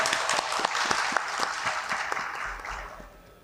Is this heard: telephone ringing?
no